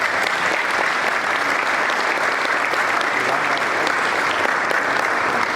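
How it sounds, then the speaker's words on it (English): Developer conference audience in Bamenda clapping as the keynote speaker comes up, a continuous, even wash of many hands at steady loudness from start to finish. "So please can we give a clap as he's coming up?"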